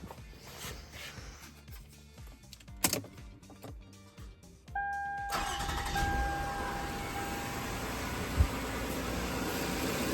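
A Toyota 3.3 V6 (3MZ-FE) engine cranks briefly, catches, then settles into a steady idle with a whirring hum.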